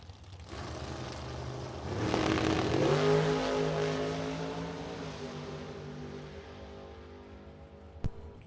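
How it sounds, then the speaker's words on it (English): A supercharged dragster launches down a drag strip at a Super Pro and Top Sportsman test and tune event, a loud engine roar swelling and then fading into the distance, with a brief sharp bang near the end. "In a supercharged dragster right-hand side."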